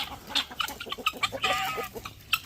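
Hens, roosters and guinea fowl at a small homestead before free ranging make a dense run of close clucks and squawks. A brief louder burst comes midway, and no one speaks.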